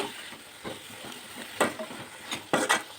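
Beans, carrots, potatoes and curry leaves cook for a vegetable kurma, with quiet sizzling and a few sharper stirring scrapes against the pan, fairly faint and close.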